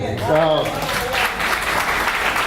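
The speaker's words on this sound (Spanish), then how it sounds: "Un aplauso." Audience applause at an education and children's rights talk breaks out right after a speaking voice, continuous clapping filling the short stretch at close range.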